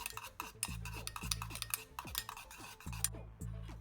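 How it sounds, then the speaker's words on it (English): A spoon mixes cold butter into thick custard in a pot, producing quiet rhythmic scraping and clinking strokes in quick succession. There is a faint background hum and no talking. "Add 1 tablespoon of cold butter and mix well."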